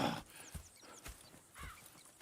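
Horses in Red Dead Redemption 2 shift and stamp with a few heavy hoof thuds and a brief whinny, close by and moderately loud without speech.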